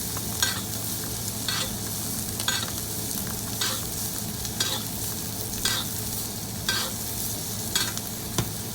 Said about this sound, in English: I'm looking for quick sears on each side because it's already pretty much cooked